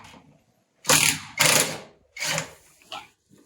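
A ratchet loosens screws on a motorcycle fork of a Derbi DRD or Rieju MRT, sounding as four short bursts of rapid clicking separated by brief pauses, close and alone.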